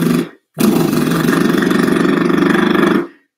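A human voice imitates a lawnmower engine with a loud, sustained buzzing drone and a fast pulsing putter, after a short cut-off start, lasting about two and a half seconds before stopping.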